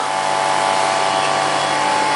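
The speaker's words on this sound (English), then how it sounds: "Now you can hear that vacuum pump started to work." A meat tumbler's vacuum pump runs with a steady, loud mechanical whir and a constant electric hum, unbroken for the whole stretch and with no voices over it.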